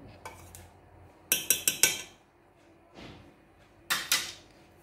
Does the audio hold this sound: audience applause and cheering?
no